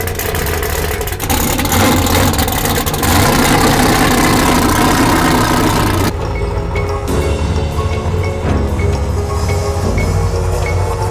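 Off-road race truck engine idling loud and close, a deep rough burble that swells briefly, then settles into a lower uneven idle.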